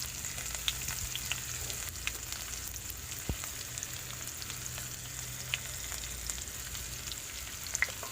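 Bay leaf, cumin and chopped onion fry in oil with a faint, even hiss and scattered tiny pops, a quiet continuous sizzle with one brief knock.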